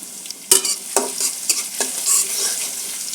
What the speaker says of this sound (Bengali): দুটো শুকনো শুকনো মরিচ আমি কেটে দিয়েছি দিয়ে দেবো রসুন কুচি তেজপাতা